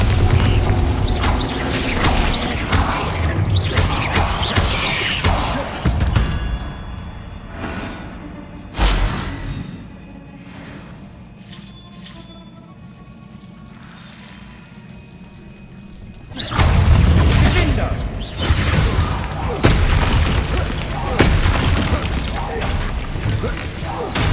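Bombarda spell blasts from Hogwarts Legacy burst in loud, crashing booms, first a dense cluster, then a quieter rumbling lull, then another heavy run of explosive impacts and debris.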